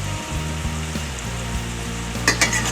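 Diner-style breakfast potatoes or bacon fry and sizzle in a pan, a dense steady crackle with a low hum beneath and a few sharper pops near the end, no voices.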